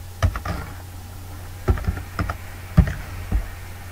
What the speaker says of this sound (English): You type services